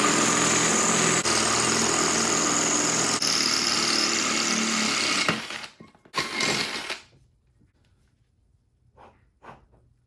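A masonry drill bit bores through a thick brick, a loud steady whine and grind for about five seconds, then a couple of short bursts before quiet with faint scattered handling clicks.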